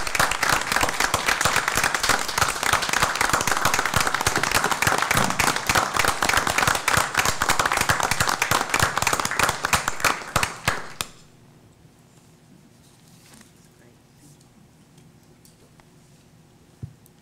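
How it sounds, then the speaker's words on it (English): Loud, dense round of applause from a standing audience at a school district board meeting, sustained for about ten seconds before cutting off abruptly into a quiet room with faint background noise. "we'll give you one more round of applause"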